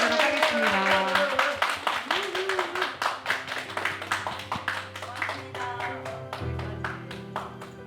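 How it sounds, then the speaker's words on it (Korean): A Korean book concert session ends with audience clapping, a run of quick claps that thins out and fades, and some voices heard underneath. "큰 박수로 저희 마무리하도록 하겠습니다"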